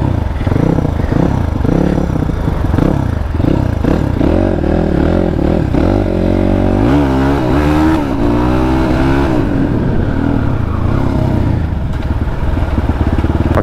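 A GAZGAS GE 250 trail motorcycle's exhaust revs repeatedly, close and loud, its pitch climbing and falling in rough bursts with a rattling, clattering edge.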